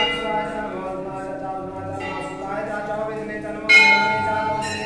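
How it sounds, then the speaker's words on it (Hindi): Metal temple bell at a Mahadev shrine rings with sustained, ringing tones, struck again near the end for a louder, brighter clang, under a faint voice and chanting in the background. "और ये मैंने घंटा बजाया।"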